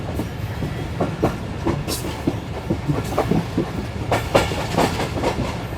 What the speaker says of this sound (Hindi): सामने आप देख सकते हैं हमारी ट्रेन गुजर रही है बाबरलू बाईपास के बिल्कुल नीचे से।